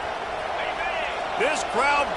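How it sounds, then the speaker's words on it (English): A dense, roaring college football stadium crowd fills the background, with scattered shouts and whistles rising above the steady din. "This crowd bringing the energy and noise early."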